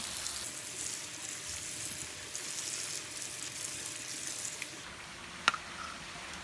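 Water poured onto potting soil in a freshly repotted citrus tree container, a steady soft splashing and trickling wash that runs continuously, with one brief sharp tap near the end.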